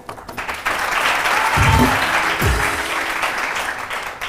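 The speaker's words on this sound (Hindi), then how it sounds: "तालियां।" Studio audience applause on a Hindi TV morning show, a broad sustained wash of clapping filling the room, with a couple of low thumps partway through.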